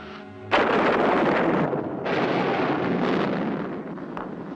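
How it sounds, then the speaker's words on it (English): Thunder crashing during a storm that ends a drought, a loud sudden rumbling burst that holds at full strength for several seconds, briefly dips, then rolls on and slowly fades. "Thunder and lightning."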